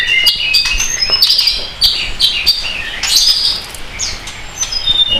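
A mountain tledekan bird at a breeder's cage calls with rapid high chirps and twittering trills, close and fairly loud over a soft background hiss.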